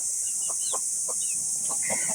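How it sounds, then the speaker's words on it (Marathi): Several short clucks from native village chickens, including a bearded hen and a rooster, at a poultry market, scattered irregularly over a constant high-pitched hiss of background noise. "हे बघा हे दाढीवाली कोंबडी आणि हे नर आहे"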